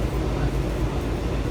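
Metro Red Line train rolling on its rails, a short stretch of steady, moderately loud rumbling and wheel noise heard from on board, with no talk.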